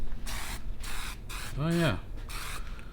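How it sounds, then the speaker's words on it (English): Art Primo spray paint hisses from the can onto a shirt in a test spray, coming as several broad, close bursts of hiss, with a brief exclamation from a voice in the middle. "Let me do a quick test spray on this Art Primo shirt here."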